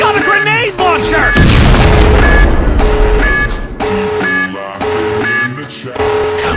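A grenade launcher round detonating in a video game, a heavy, loud boom that swells and rumbles under excited shouting voices and game music with beeping tones.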